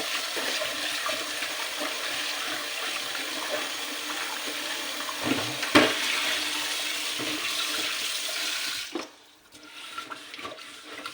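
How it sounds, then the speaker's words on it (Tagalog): Water runs steadily from a tap that supplies both hot and cold water. The close, loud gushing flow continues for several seconds, then cuts off abruptly, leaving only small drips and clatter. "Tapos yung tubig dito, mayroong malamig, mayroong mainit."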